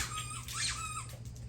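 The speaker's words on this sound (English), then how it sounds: "the perfect combination of crinkle and noise, the little sounds they make when they bite down on them" A dog chomps on a squeaky crinkle toy, producing a single drawn-out rubbery squeak with a bending pitch, close and clear with no talking.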